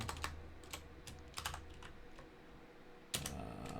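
Keys clatter on a computer keyboard in quiet, irregular bursts of close typing separated by short pauses, with no one talking.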